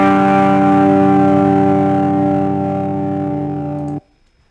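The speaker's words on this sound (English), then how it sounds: "Asymmetrical clipping." An electric guitar processed with asymmetrical clipping distortion written in Python sounds a single harsh, sustained chord, loud and gradually fading before stopping sharply at about four seconds.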